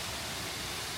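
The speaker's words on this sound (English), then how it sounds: "look at that cool little waterfall" A small waterfall in the North Cascades gives off a soft, even hiss of falling water, steady and fairly faint, with no voices over it.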